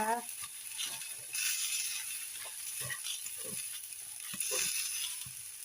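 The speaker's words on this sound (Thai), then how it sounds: "นี่เราก็จะมาผัดรวมกันแบบนี้นะคะ" Pork fried rice with egg stir-fried in a pan, a soft steady sizzle with scraping and stirring clatter throughout, someone talking intermittently over the cooking.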